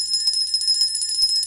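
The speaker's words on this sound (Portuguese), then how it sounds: "O pastor tinha que pegar o sininho." A small hand bell rung in a church gives a bright, sustained high ringing that shimmers continuously, with a few faint knocks underneath and no talking.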